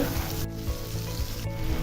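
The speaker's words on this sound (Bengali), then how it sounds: "এখন রসুন আর সরিষাটা একটু ভাজা ভাজা হলে আমি অন্যান্য উপকরণ দিয়ে দিব" Garlic and mustard paste frying in hot oil for a raw mango pickle, a steady close sizzle and crackle continuing throughout with no pauses, moderately loud and without speech.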